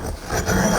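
Toasted sticky rice being ground and mashed in a mortar and pestle, a continuous close scraping and rubbing with a slight rhythmic push, steady and moderately loud.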